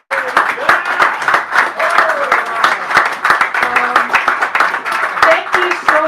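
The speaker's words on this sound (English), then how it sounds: "Applause, yeah." Audience applause after a poetry reading at Sacred Grounds, a steady round of clapping from a small crowd lasting several seconds, with voices and cheers mixed in underneath.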